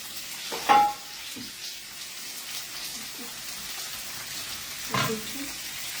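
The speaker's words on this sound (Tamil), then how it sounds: "இந்த பாவக்காய் குழம்புக்கு வெங்காயம் வதங்கிட்டு இப்போ பாவக்காய் கொட்டிடுவோம்" Bitter gourd tipped into a pan of sautéed onions for a tamarind kuzhambu, a steady low sizzle of frying with a couple of louder stirring bursts, faint voices in the background.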